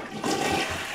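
Toilet flush in The Sims 3 video game, a brief, close whooshing rush of water lasting under a second, alone.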